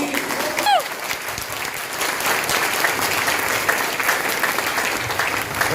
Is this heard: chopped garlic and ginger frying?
no